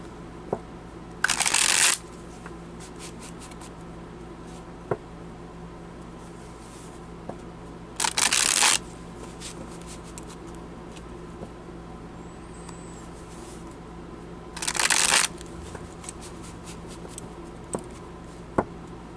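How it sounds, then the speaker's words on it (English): Three short bursts of cards being riffle-shuffled, spaced several seconds apart, with quiet background hum and occasional small clicks between them. "Let me shuffle these cards real quick."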